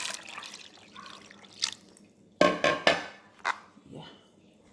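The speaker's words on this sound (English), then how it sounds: "Adding more water." Water is poured and splashes in short bursts into a bowl while Nigerian achicha made from cocoyam is prepared by hand, a few sharp splashes standing out against quieter handling sounds.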